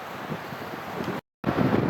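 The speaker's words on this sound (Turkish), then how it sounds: "bugün yine her zaman alışkın olduğumuz gibi rüzgarlı bir hava" Steady wind roars and buffets the microphone outdoors, cutting out for a brief moment midway before rushing back just as strongly.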